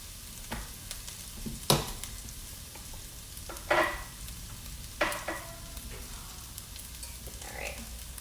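Garlic fries in a pan with a low steady sizzle, broken by a few sharper crackles and stirring clatters spaced a second or two apart, close by and without talk.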